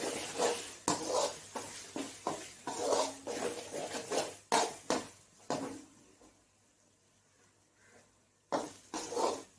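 Cauliflower with double beans and chili powder is stirred and sautéed in a pan, a spoon scraping and clinking against the metal in quick irregular strokes over a soft sizzle, close up, with a short quieter gap before the stirring resumes.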